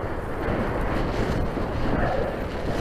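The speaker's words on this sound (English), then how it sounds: "the wind is blowing more directly on this slope" Cold wind blows steadily across an exposed hill slope used for soaring model gliders, a continuous loud rumble buffeting the microphone with no break or voices for the whole stretch.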